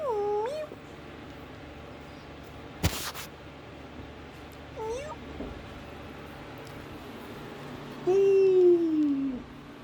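A cat and her kittens meow indoors: several short rising mews come at intervals, and one longer, louder drawn-out meow follows near the end. A soft thump sounds in between, over a quiet room background.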